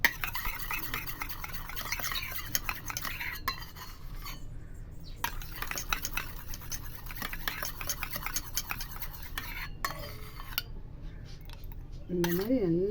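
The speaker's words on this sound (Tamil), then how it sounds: "இந்த மாதிரி நல்லா மிக்ஸ் பண்ணிட்டோம்னா க்ரீம் போல் ரெடி" Face cream of almond, rosewater, vitamin E and aloe vera gel being stirred together in a small bowl, with steady scraping and clinking of a spoon close by, briefly pausing and resuming, while someone talks over it.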